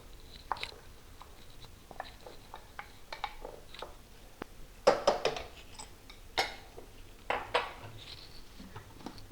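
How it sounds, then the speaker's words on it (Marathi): Dry toor dal tipped into a metal pressure cooker at home, making scattered light rattles and clinks with a louder clattering burst partway through, close and without talk. "मी हे तुवर डाळ याच्यात टाकत आहे."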